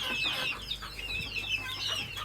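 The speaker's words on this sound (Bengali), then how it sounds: "দেখেন ওরা কিভাবে খাইতেছে, কারণ দেশি মুরগি আপনার ঘাস পছন্দ করে।" Desi chickens eat grass in a lemon orchard, giving off soft clucks and chirpy calls close by that mix with faint pecking and rustling, and no one speaks.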